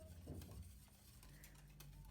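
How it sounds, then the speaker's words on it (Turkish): A whisk scrapes and stirs egg yolks briskly against the bottom of a pot, a soft, close rattling and swishing with no talking. "Evet bunu da azıcık bir çırpalım."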